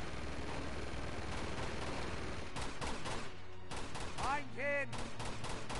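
Uncharted 2: Among Thieves combat brings rapid bursts of gunfire mixed with whooshing game effects, fairly faint, while a voice briefly speaks.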